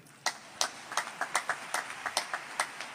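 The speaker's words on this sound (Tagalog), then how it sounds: "Palakpakan muna natin ang ating mahal na Panginoon." Scattered hand claps from a small church congregation at a Bible study, about a dozen distinct claps in an uneven rhythm, fairly faint and distant with no talk over them.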